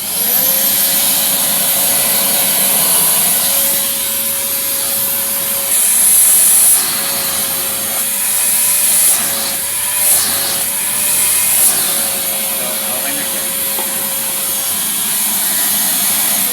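A repaired vacuum cleaner runs at full suction, giving off a steady, strong whine with an airy rush. The pitch wavers slightly as the hose airflow shifts, and no one talks over it.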